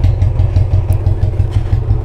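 Royal Enfield Bullet motorcycle with its stock silencer exhaust idling nearby, a steady low thump with regular even beats, somewhat softer and smoother, with no voices.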